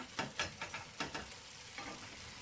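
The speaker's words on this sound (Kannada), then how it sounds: "ಸ್ವಲ್ಪ ಚೆನ್ನಾಗಿ ಫ್ರೈ ಮಾಡ್ಕೊಳ್ಳೋಣ." A sweet mango mixture frying and being stirred in a pan over low flame, with soft sizzling and a few quick scraping stir strokes early on, close but quiet, no voices.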